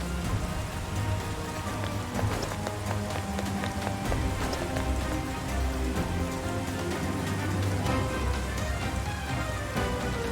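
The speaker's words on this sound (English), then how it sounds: "Is this what they call rain? It just started pouring all of a sudden." Heavy rain pours steadily across a Persona 5 Strikers game scene, a dense, constant broadband wash of drops striking surfaces, loud and unbroken from start to finish.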